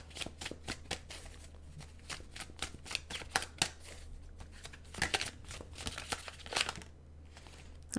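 Tarot cards are shuffled by hand in a steady series of rapid riffling flutters and soft slaps, close and fairly quiet, with no speech.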